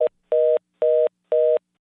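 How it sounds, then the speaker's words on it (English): Four evenly spaced electronic tones beep from a telephone after a call drops, each pulse about a quarter second long with short gaps between, clear and steady with no voices. "Looks like Midgie's run out of... what do you put in phone boxes these days?"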